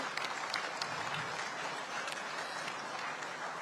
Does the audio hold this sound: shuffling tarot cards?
no